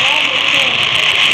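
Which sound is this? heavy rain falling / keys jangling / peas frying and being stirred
heavy rain falling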